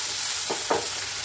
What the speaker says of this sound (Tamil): பச்சை மிளகா போட்டுக்காங்க.